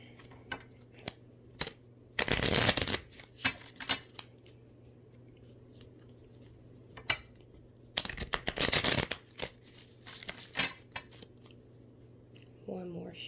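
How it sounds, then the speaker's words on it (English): A deck of wellness cards is shuffled in two quick riffling bursts, with soft taps and handling clicks between them against a quiet room hum. "One more shuffle."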